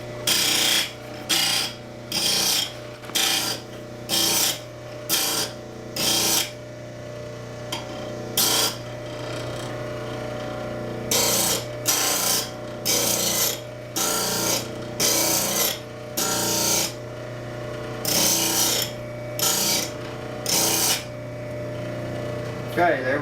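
A bench grinder puts a hollow grind on a woodturning tool, the grinding rasp coming in repeated short bursts of about a second each over a steady motor hum, loud and close.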